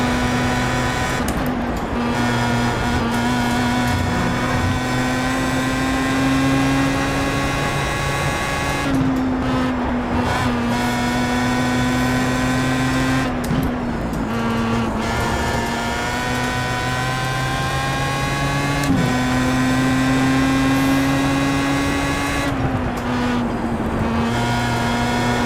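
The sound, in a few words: Pro Mazda race car driving around Brands Hatch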